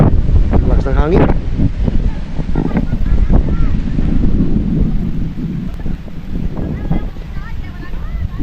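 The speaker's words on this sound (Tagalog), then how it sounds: "Lakas ng hangin." Strong seaside wind buffets the microphone in heavy, roaring gusts along with the low rumble of surf, with brief voices breaking through near the start.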